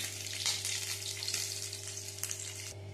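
Eggs frying in hot oil in a pan, giving a steady close sizzle with occasional crackling bursts over a constant low background hum; no one speaks.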